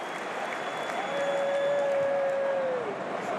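A football stadium crowd at Coventry City v Plymouth Argyle, with more than 29,000 present, applauds in a broad, sustained wash of clapping. A long whistle-like tone rings over it in the middle.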